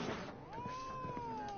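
A cat in The Witcher 3 video game gives a single drawn-out meow with a rising then slowly falling tone, fairly faint over a soft background hiss.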